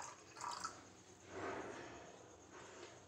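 Milk mixed with Ganges water is poured over a Shiva idol during worship, giving soft close dripping and trickling splashes in a few gentle bursts.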